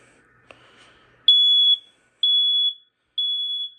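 A soft click, then three evenly spaced high-pitched beeps from a BRK 4120B smoke alarm running its code 3 test pattern, each about half a second long, clear and close.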